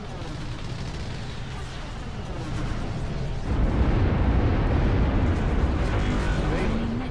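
Bombers strike a hacked nexus in the real-time strategy game Ashes of the Singularity, a continuous rumbling roar of explosions that swells louder midway and holds steady.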